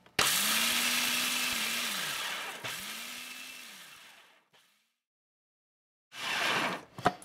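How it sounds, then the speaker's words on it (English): A countertop blender pulses sunflower seeds to grind them, two long whirring bursts with the motor note rising and falling, then silence and a short final burst, loud and close with no talk. "let's start out by pulsing, and we'll get these ground down just a little bit"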